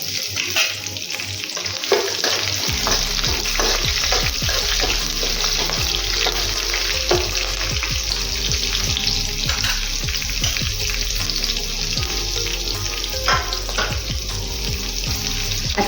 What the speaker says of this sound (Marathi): तर यामध्ये आपण टाकणार आहोत हिरव्या मिरच्या.